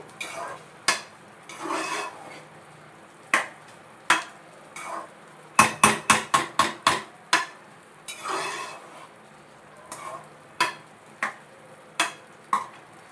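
Cooked rice for kattu pongal being stirred and mashed with salt, a series of short scraping and slapping strokes of a spoon against the vessel, some in a quick rapid burst, close and fairly clear with no talking.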